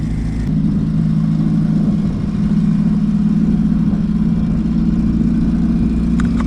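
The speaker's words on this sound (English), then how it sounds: "Revving it up to 77, it pulls. It never stops pulling." A turbocharged Honda D16 running 16 psi through a GT35 turbo with Vitara pistons drones steadily as it pulls at high revs, loud and close, a continuous engine roar with no pauses.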